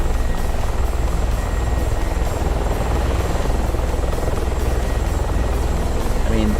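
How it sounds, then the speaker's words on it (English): A video game helicopter's steady rotor drone fills the scene at constant loudness during a helicopter dogfight in DCS World, with a voice speaking over it. "helicopter coming for you."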